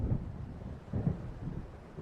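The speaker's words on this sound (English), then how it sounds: "It seems there's a storm coming." Thunder from an approaching storm in the video game Alan Wake: faint, distant low rumbles roll in a few soft swells.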